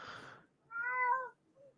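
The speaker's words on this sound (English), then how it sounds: "I heard the cat." A house cat meows twice in a quiet room, a clear drawn-out call followed by a shorter, fainter one, with a burst of muffled background noise just before.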